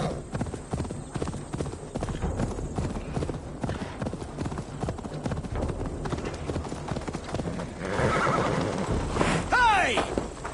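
Horses gallop with steady clip-clop hoofbeats and a sharp neigh near the end, in the video game Assassin's Creed Valhalla; loud and close, over game music and shouting voices.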